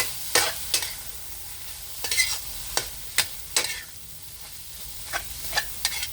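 Glass noodles stir-fried in a pan with napa cabbage, red chili and egg: irregular scraping and tossing clatters of the utensil over a steady low sizzle, close and fairly loud, with no voices.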